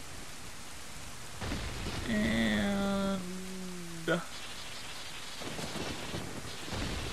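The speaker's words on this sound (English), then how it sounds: "Even though it's already storming, it's going to start storming heavier." Heavy thunderstorm with steady rain in The Legend of Zelda: Ocarina of Time, a constant hiss of rainfall with a sharp crack of thunder partway through, and a brief voice near the start.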